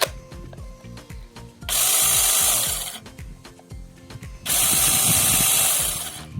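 A cordless mini garden chainsaw with an 8-inch bar runs in two short bursts of high whirring buzz, separated by quieter ratcheting clicks and handling noise.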